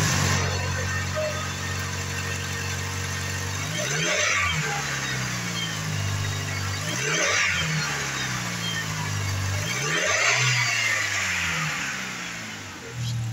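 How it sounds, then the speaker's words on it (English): A 2011 Jeep Patriot engine with 176,395 miles idles and revs up about three times, each rise climbing and then settling back to a steady hum, heard close with no talking. "2011 Jeep Patriot, mileage 176, 395, engine run video."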